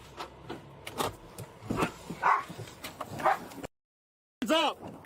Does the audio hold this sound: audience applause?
no